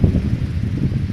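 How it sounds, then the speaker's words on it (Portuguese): Strong wind blowing outdoors at a horse stable, a steady low roar buffeting the microphone with no pauses, close and fairly loud throughout. "Tá ventando muito"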